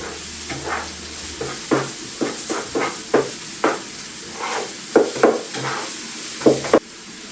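Leeks sautéing in a pan for kottu roti, with a steady soft sizzle broken by repeated scraping stirs, about a dozen sharp spatula strokes in an uneven rhythm, close and moderately loud.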